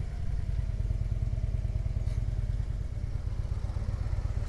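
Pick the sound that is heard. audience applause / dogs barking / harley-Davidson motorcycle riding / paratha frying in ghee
harley-Davidson motorcycle riding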